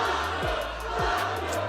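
A large crowd roars continuously at a distance at a Brawl Stars esports championship, a dense wash of cheering voices that swells slightly, with a low engine-like hum underneath.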